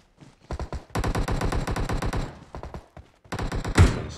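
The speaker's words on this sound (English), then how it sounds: "Oh, shit, we are getting shot." Automatic gunfire in PUBG's Metro mode inside a subway station: rapid, loud bursts of shots in several volleys separated by short pauses.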